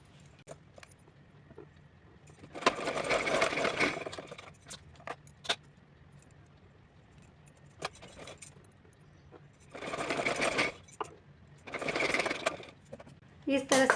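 A sewing machine stitches fabric strips in several short runs, each a close whirring burst of a second or two, separated by quiet gaps with faint handling noises.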